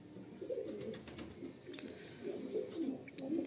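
Pigeons for sale cooing in low, soft repeated calls, several birds overlapping at close range, with faint chirps and light background noise, no talk.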